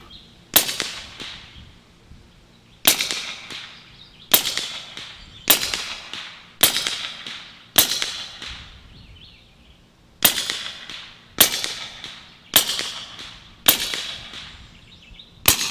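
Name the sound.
air rifle firing pellets at about 850 feet per second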